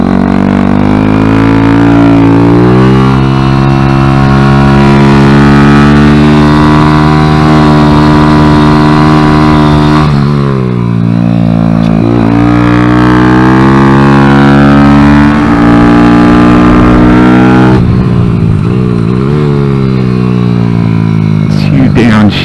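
Kawasaki Z125 motorcycle with a Factory Pro shift kit, ridden hard through the gears, its engine droning loud and close with rising revs and sudden drops at each shift.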